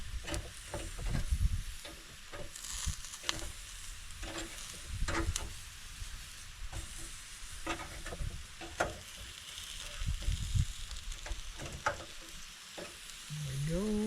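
Deer steaks sizzle on a grill at an early November truck camp, a steady close frying hiss broken by sharp clicks and scrapes as the meat is flipped and pushed around.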